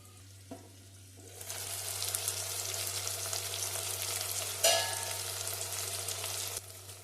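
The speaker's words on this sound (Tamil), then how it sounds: "தக்காளி வெங்காயம் வதங்கிறதுக்கு உப்பு சேர்த்துக்கலாம் நல்லா வதங்கட்டும்" Tomatoes and onions sauté in a pan with salt, a quiet start swelling into a steady close sizzle with a brief burst of louder crackle, over a constant low hum.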